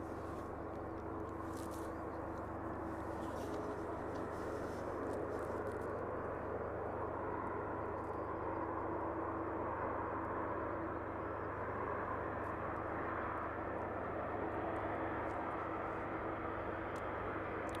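A UPS Boeing 767 cargo jet arrives at East Midlands Airport as a steady, distant broadband jet roar that holds evenly throughout, with no talking.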